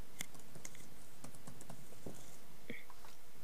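Keystrokes on a computer keyboard while entering a shopping task into an online Office/Outlook task list, a run of irregular light clicks at close range, fairly quiet, with no speech.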